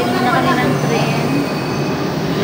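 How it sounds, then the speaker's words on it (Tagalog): A train ride in France, heard from inside as a loud, steady rolling rumble with a whine and faint squeal from the wheels and a voice speaking over the noise. "Sasakay muna kami ng train."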